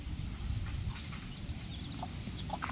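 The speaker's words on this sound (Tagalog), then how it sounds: "Kaya may manok po sila." Chickens cluck faintly and intermittently over a steady low rumble of background noise, with a few sharper clucks near the end.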